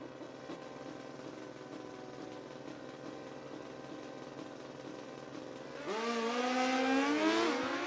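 Drag racing motorcycles, including a Honda CBR 600, at a Midwest sportsman bracket event: engines idle and burble in the distance, then one bike launches loudly, revving hard through rising gear pulls.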